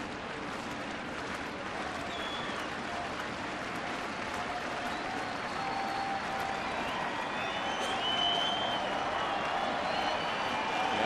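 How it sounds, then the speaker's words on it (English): Baseball stadium crowd at a Mariners game in Kansas City cheering and applauding as the pitcher works through the fourth inning, a broad, continuous roar of applause that swells slightly toward the end, heard from within the stands. "Now the crowd begins to get behind O'Sullivan, try and help him through this 4th inning."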